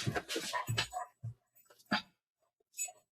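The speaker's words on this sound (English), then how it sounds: "This dog is bugging me." A pet dog whimpers and whines indoors in a few short, high, broken bursts, with quiet pauses in between.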